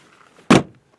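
A door on a 2000 Volkswagen Jetta slams shut once in a single loud, solid thud, close by, after a faint quiet lead-in.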